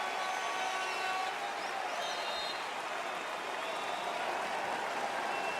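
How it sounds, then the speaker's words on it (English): A basketball crowd at a Carolina versus Miami game cheers and applauds in a steady, dense roar that holds at a constant level throughout, with no distinct individual voices standing out. "The crowd is alive."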